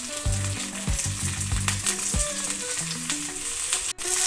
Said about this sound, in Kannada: ಬ್ಯಾಡಗಿ ಮೆಣಸನ್ನು ಸ್ವಲ್ಪ ಕಟ್ ಮಾಡಿ ಇಟ್ಕೊಂಡಿದ್ದಾರೆ ಅದೊಂದಿಷ್ಟು ಹಾಕೊಳ್ತಿದ್ದಾರೆ